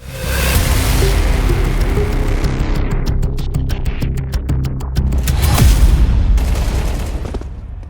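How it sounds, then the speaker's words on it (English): Grenade blasts and rapid rifle gunfire in Counter-Strike 2 at a big esports match, dense loud bursts of shots crackling continuously with heavier booms mid-way, nearly free of talk. "Lots of nades coming their way."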